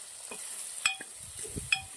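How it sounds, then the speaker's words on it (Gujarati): Thinly sliced potatoes with salt cook in a pan with a faint, low sizzle, punctuated by a few light metallic clinks and soft stirring sounds. "પાતળું ઝીણું સમારેલા બે નંગ બટાકા લીધા છે એને પણ શેકી લેવાના છે"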